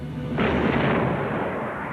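Battleship Hood's heavy naval guns open fire: a sudden deep, booming blast breaks in after a moment over a low rumble, then its roar decays slowly.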